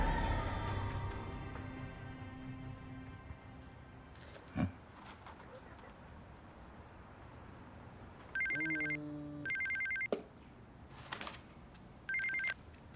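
A telephone rings in an indoor setting, three bursts of a bright electronic trill spaced about a second apart, fairly faint against a quiet background that follows a few low rumbles and a sharp knock.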